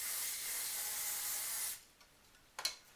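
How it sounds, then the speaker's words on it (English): Hairspray hisses from an aerosol can onto backcombed hair in one steady burst lasting nearly two seconds, then stops, leaving a couple of faint handling clicks. "I'm going to spray it."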